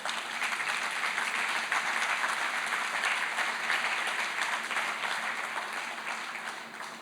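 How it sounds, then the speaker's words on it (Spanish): A church congregation gives a round of applause to the Lord, dense and even clapping from many hands that holds steady for about seven seconds and only eases slightly at the end. "De un aplauso al Señor."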